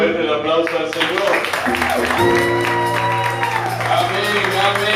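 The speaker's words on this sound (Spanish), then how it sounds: "Démosle fuerte el aplauso al Señor." Sustained clapping from a crowd at a church service in a large room, mixed with loud voices and music-like tones throughout.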